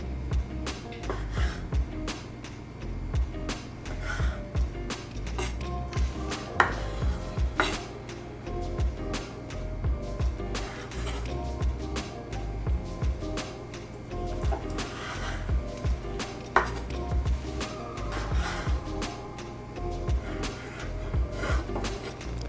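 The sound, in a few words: knife chopping squid tentacles into smaller chunks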